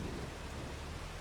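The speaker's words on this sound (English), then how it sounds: "It's pissing down rain." Heavy rain pours down in Farming Simulator 25, a steady, dense wash of noise with a low rumble, constant and fairly close throughout with no voices.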